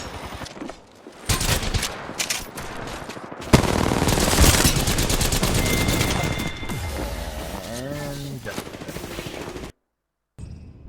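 Rapid bursts of automatic gunfire and explosive booms from an Apex Legends match fill the scene continuously, loud and dense, before cutting briefly to silence near the end.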